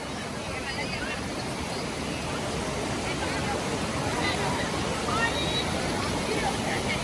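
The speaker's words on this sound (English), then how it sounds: "Y'all see the waterfall over there?" Waterfall at a busy outdoor swimming spot in Roswell, a steady broadband rushing roar heard from a short distance, constant and unbroken throughout.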